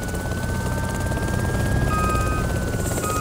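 A Huey helicopter in the ARMA 2 video game gives a loud, steady rotor and engine drone that holds without a break from start to end.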